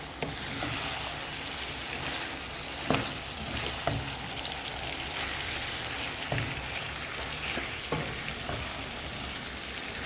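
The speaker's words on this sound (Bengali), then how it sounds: "যে মশলা মিশিয়ে নিলাম, একটু কষিয়ে নিক।" Spices sauté in hot oil for a rohu fish curry with brinjal, potato and tomato, making a dense, continuous crackling sizzle. Occasional stirring clicks sound over it, and no voice is heard.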